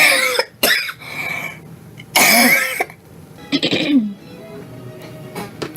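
A man has a harsh coughing fit of several hacking bursts and throat clearing, broken by short gasps and pauses, up close and loud in a quiet room.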